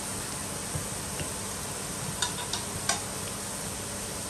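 Garlic ginger paste frying in oil with golden brown onions for mutton kofta biryani, a steady soft sizzle with a few faint clicks of stirring, no voices.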